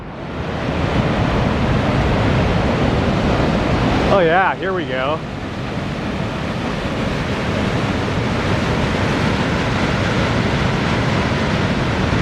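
A waterfall and creek rushing below an old bridge along a scenic road, a loud, steady broadband roar of water throughout, with a brief spoken exclamation partway through.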